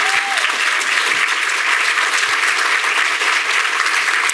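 An audience at a library event on fighting book bans applauds librarians with loud, dense, sustained clapping, close and continuous throughout.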